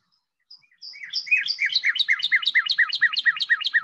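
A female northern cardinal sings in a park, opening with a few thin high whistles, then breaking into a rapid, steady series of bright chirped notes that repeats evenly and stays close and clear.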